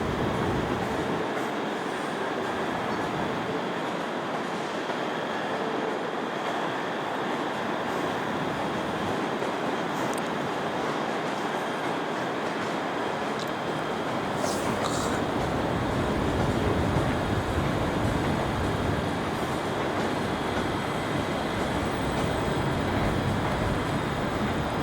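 A Class 380 electric train pulls into a Glasgow station, a steady rumbling rail roar with faint clatter and brake hiss building slightly toward the end, with no talk.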